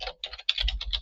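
Quick, light keystrokes on a computer keyboard, about eight taps in a short close burst with no voice over them.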